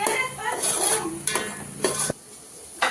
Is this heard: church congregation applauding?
no